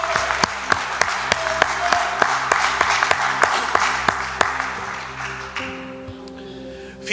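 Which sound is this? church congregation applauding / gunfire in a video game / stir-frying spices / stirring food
church congregation applauding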